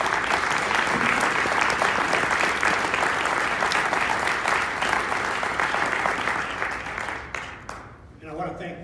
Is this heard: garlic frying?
no